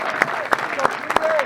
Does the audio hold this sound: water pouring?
no